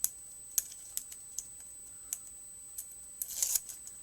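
Paper backing being peeled away from an adhesive card layout piece, heard as a series of short crisp ticks and crackles that build into a brief tearing rustle near the end, close and fairly quiet.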